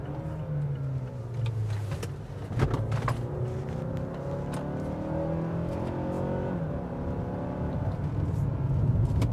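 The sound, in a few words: 2017 Mazda CX-5 driving through a turn in second gear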